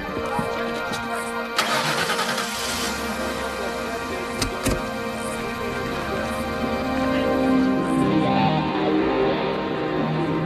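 A car engine turns over and catches as a visitor sets off to drive away, settling into a steady mid-pitched idle and running hum with a few sharp clicks, fairly close and alone.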